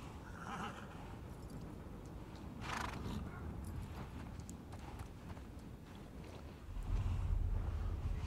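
Horses in The Last of Us Part II clop and snort amid a windy outdoor ambience, the hoof sounds faint and scattered, with a louder low rumble near the end.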